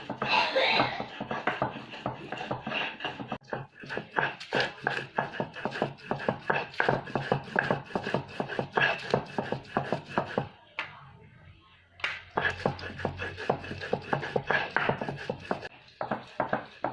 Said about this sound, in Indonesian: Pakai gilingan tradisional.